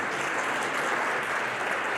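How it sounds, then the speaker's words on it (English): Steady, even audience applause after a conference session on Zarathushtra's Gathas, a smooth wash of many hands clapping at moderate volume throughout. "let's have a big round of applause"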